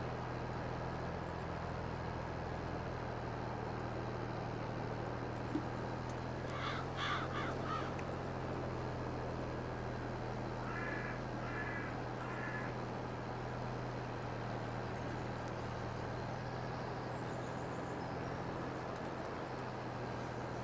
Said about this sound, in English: I hear the birds chirping in the game.